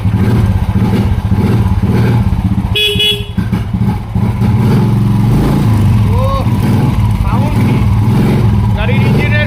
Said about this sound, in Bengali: গাড়ির ইঞ্জিনের সাউন্ডটাই বুঝতে পারছেন।